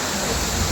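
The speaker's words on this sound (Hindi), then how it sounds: "तो ये है झरना यहाँ का एक मिला।" A waterfall on the Amarnath Yatra mountain route gives a steady, close, broadband rush of falling water with no breaks, alone in a brief stretch.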